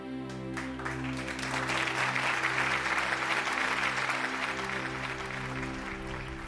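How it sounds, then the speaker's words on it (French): Crowd applause in an audio drama scene, a sustained wash of many hands clapping over steady low background music, loud and continuous throughout. "Ils ont tous applaudi"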